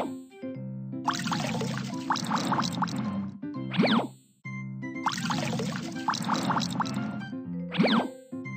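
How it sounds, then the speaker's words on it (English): Game sound effect of water being wrung from clean washed clothes in a children's daily-habits game, a squishy, splashing burst over a musical tone, ending in a rising chirp, played twice. "Tap to wring water out."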